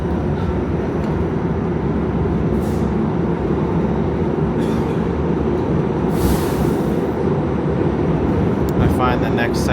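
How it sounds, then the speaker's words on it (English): A New York City subway train runs loudly through the tunnel past Fifth Avenue Station, a steady heavy rumble with brief higher screeches and hiss bursts over the roar. "I find the next segment of the subway to be quite loud, so volume warning."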